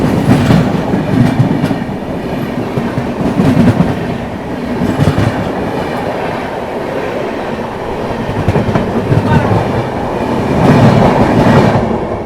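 The Amrapali Express runs alongside another train and overtakes it, giving a loud, continuous rumble with rhythmic clickety-clack from the wheels and surges in intensity throughout.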